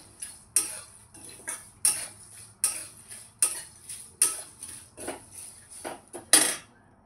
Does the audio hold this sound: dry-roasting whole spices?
yes